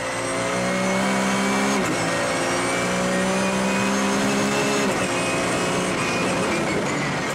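A 3.2-litre BMW 1 Series touring car races at Assen with a loud, sustained engine howl that climbs in pitch, drops sharply at two gear changes, then climbs again.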